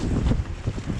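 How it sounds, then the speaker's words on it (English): Wind blows across a microphone on the Cafall forest mountain bike trail at Cwmcarn, a heavy low rumbling buffet that gusts unevenly and fills the whole moment with no voices. "this feels quite windy in here as well"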